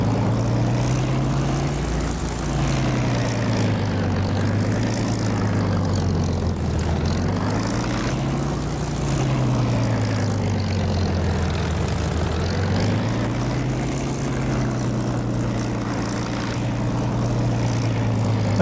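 Propeller aircraft engine in the DCS flight simulator holding a loud, steady drone after throttle-up, its low harmonic hum rising and falling slightly in pitch over the whole stretch, with no talk.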